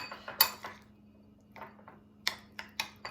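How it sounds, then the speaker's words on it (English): Parmesan cheese being stirred into pesto in a bowl, heard as scattered scraping and clinking of a utensil against the dish in short bursts with quiet pauses, close and fairly soft. "Just put a 1/3 of a cup of Parmesan cheese and stir this up."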